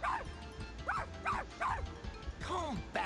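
A cartoon dog in the video game 102 Dalmatians lets out a rapid run of sharp yips and barks mixed with whimpers, five or six short bursts over a steady game background.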